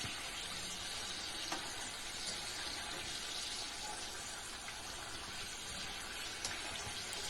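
Amla gooseberry chutney frying in a pan while being stirred, giving a steady, even sizzle that runs unbroken throughout at close range with faint scraping now and then.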